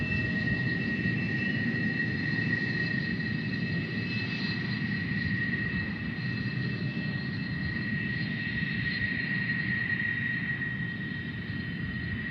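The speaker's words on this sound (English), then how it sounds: "F-16s landing here" Several F-16 fighter jets landing at Tucson International Airport during an air show, a steady loud roar of jet engines that fills the whole stretch without letup, with a high whining tone riding on top and no talk.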